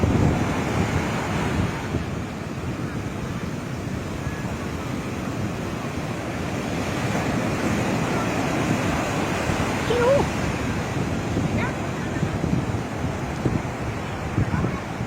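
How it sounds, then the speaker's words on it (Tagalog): Steady roar of rough surf with a constant wash of wind across the microphone, broadband and continuous, with faint voices now and then. "Grabe, nagwawala yung alon."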